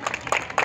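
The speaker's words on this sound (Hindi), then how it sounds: "इन सारे लोगों के लिए बहुत जोरदार तालियां हो जाए एक बार" Audience applause for a children's street play about cleanliness, heard as a short burst of scattered clapping from an outdoor crowd.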